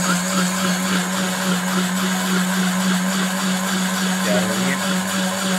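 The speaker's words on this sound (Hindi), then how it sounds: "ये हमने सारी चीज़ें जो हैं वो इसमें ग्राइंडर में डाल दी हैं, दही भी" An electric kitchen grinder whirs steadily as it blends mint, coriander, green chilli and yogurt into chutney, a loud continuous motor drone with a churning texture that holds level throughout.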